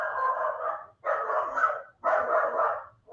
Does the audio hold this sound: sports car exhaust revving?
no